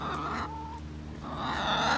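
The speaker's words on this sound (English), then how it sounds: "Taking a little break with the chickens right now." Chickens cluck and murmur in a steady, fairly loud flock chorus on a homestead in May, with a brief higher call partway through and no one talking.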